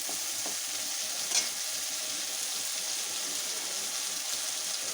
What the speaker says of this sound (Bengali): এইবার আদা বাটাটা দিয়ে আবার কিছুক্ষণ এটাকে টানাতে হবে